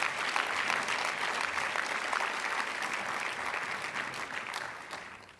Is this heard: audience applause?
yes